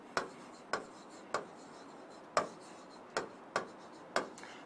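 Handwriting on paper, a series of soft evenly spaced pen strokes and taps, about eight in under five seconds, close and quiet with no talk.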